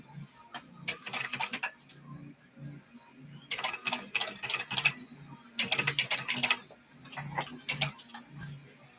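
Sewing machine top stitching fabric, with bursts of quick needle clatter separated by short pauses, fairly close and moderately loud with no talk.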